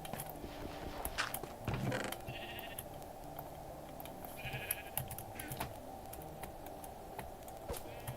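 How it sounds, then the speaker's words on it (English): Sheep in the Minecraft video game give a few short bleats over a steady game background, with faint mechanical clicks scattered through. "we've got an orange sheep"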